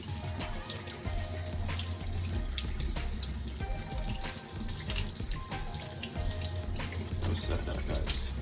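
Tap water runs steadily into a sink as fresh ginger pieces are rinsed of dirt, a continuous close splashing stream with faint clatter of handling throughout.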